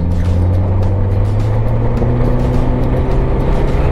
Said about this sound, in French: Allez, un petit dernier accel.